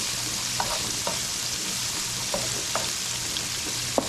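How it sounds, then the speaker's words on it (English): Shrimp sautéing with garlic in a hot pan makes a steady, close sizzle with scattered light pops and a few soft scrapes of stirring, with no one talking. "we're gonna saute the shrimp. Cook it up a little bit. Cook it up in the garlic"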